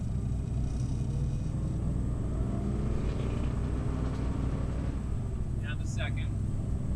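A 1969 Ford Mustang Boss 429 pulls away in first gear, its engine a steady, loud low rumble throughout with road noise and no clear gear change.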